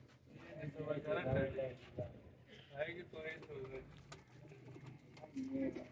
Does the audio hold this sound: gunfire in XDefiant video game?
no